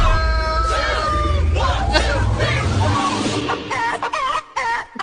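Chickens clucking and a rooster crowing, busy overlapping calls close by, with crowd babble and chatter mixed underneath.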